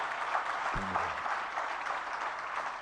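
Audience claps steadily throughout a Jain religious sermon gathering, a dense, sustained wash of applause from a seated crowd, with a brief low thump partway through.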